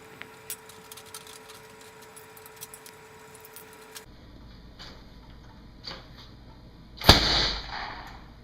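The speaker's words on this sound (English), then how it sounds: "Now that we fired the potato cannon" A potato cannon with hairspray propellant fires in a single sharp, loud boom with a brief rushing tail, after several seconds of quiet handling clicks and knocks.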